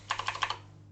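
Six quick keystrokes are tapped on a computer keyboard in the game Stationeers: Mars, a short, close and fairly faint burst of typing.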